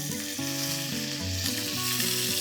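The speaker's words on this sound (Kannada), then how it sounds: "ಇವಾಗ ಇದಕ್ಕೆ ನಾನು ಸಾಸಿವೆ ಮತ್ತು ಜೀರಿಗೆನ ಸೇರಿಸ್ಕೊತಾ ಇದ್ದೀನಿ." Mustard seeds and cumin sizzle in hot oil, a loud, steady hiss of frying that runs throughout beneath background music.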